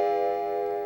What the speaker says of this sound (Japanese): 扉の隣にあった置き時計が指示の時報を告げたようだった。